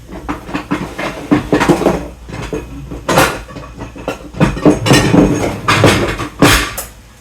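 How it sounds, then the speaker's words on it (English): Clattering kitchen handling as a pan is pulled out and shifted aside while cooking, with a run of sharp clanks and knocks spread irregularly through the clip, close and moderately loud, no speech. "just move this over and get out one more pan"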